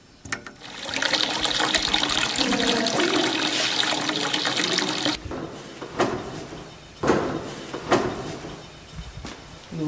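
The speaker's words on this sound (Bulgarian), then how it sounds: "пускаш водата." Water gushes from a tap in a bathroom in a strong steady stream for about five seconds, then cuts off, leaving a few clunks and knocks.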